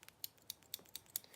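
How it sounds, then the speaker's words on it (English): Small metal scissors snipping and clicking in quick, light, irregular bursts, close and quiet, with no talking. "I'll show you my cute wee scissors and stuff"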